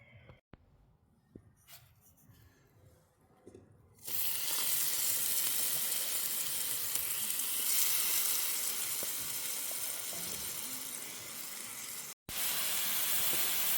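Fillet steak drops into hot oil in a small Trangia camping pan and sizzles loudly and continuously at close range, after a quieter stretch of low clatter.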